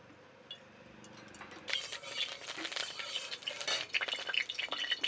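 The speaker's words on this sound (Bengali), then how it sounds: "তেল দিয়ে দেবো এখন কড়ায়।" Oil poured into a hot wok for frying potatoes in a village kitchen, a soft sizzling crackle with scattered clinks and drips, fairly quiet and close.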